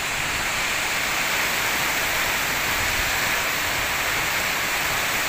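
Wind and rain of Typhoon Paeng at landfall in Calatagan, Batangas form a dense, unbroken roar of downpour and gusts, loud and steady throughout.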